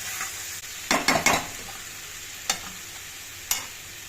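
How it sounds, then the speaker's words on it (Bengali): Potatoes are stirred with spice masala in a frying pan, a low sizzle running throughout beneath a quick cluster of spatula scrapes and a couple of later isolated clinks against the pan. "আলুটার সাথে মশলাটা আরেকটু কষাবো"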